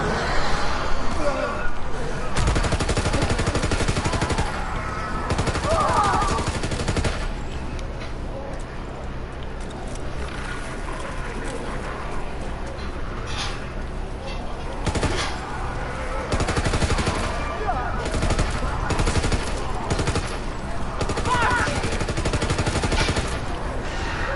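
Gunfire from World War 2 Zombies, with dense, near-continuous bursts of automatic weapon shots cutting through a steady, loud game soundscape over the full stretch.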